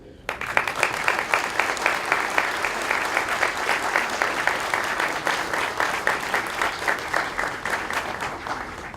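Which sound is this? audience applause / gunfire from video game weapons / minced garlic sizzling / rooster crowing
audience applause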